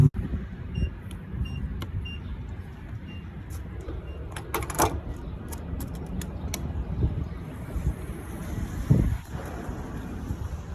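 An FD car drives around the block, heard as a steady low engine and road drone with wind buffeting and a few knocks and rattles, and no talking.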